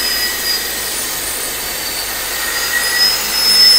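Leaking turbocharger on an Isuzu NHR 55 truck gives a steady, noisy high-pitched hiss and whine over a low engine drone, building slightly louder toward the end, with no voices.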